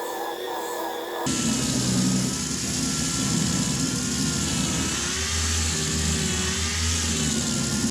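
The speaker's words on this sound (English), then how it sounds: "I'm going to take 80 grit again on the mud buster, just skim over this" A mud buster sander with 80 grit paper skims over the body of a 1970 Chevelle: a continuous, loud, whirring motor drone with a gritty rasp, holding steady throughout with slight shifts in pitch.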